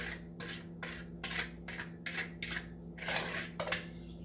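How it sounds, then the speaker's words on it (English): Blonde brownie batter being mixed in a bowl, wet ingredients folded into dry, a quiet rhythmic series of scraping, rasping strokes of about eight passes over a steady low hum, close up and without talk. "you're just gonna mix the wet ingredients with your dry ingredients"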